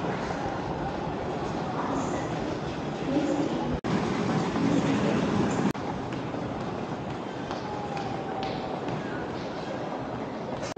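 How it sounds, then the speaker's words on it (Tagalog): A shuttle train at Incheon Airport carries passengers to Terminal 2, giving a steady, loud rumble of rail running through the whole stretch, with a couple of brief thumps partway through. "Sakay na naman ng tren papuntang Terminal 2."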